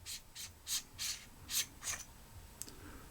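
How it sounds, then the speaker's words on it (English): A Mateminco MT04 flashlight being unscrewed to take it apart: about six short, dry rasping turns of the threads in a steady rhythm, close and fairly quiet, ending with a small click. "so now let's go ahead and take this apart. I'll show you the insides."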